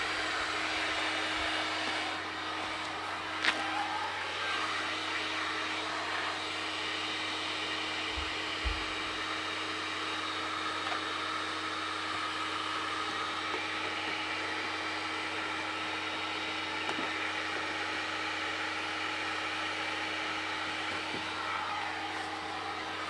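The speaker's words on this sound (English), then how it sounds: "So it'll take slower with the heat gun." A heat gun blows steadily during a vinyl skin install, a constant airy whir with a faint tonal hum running the whole time, punctuated by a few soft clicks and taps nearby.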